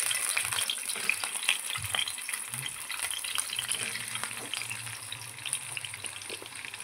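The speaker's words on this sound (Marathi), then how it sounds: "आपण रस्सा बनवण्याच्या आधी आपण अंडी फ्राय करून घेऊया।" Scored boiled eggs frying in a pan for Kolhapur-style egg curry, a continuous close crackling sizzle with faint stirring bumps and no talking.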